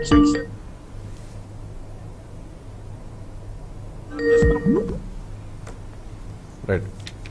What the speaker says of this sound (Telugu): సురేష్ గారు, మీకు ఏదో ఫోన్ వస్తున్నట్టు ఉంది, రీసౌండ్ వస్తుంది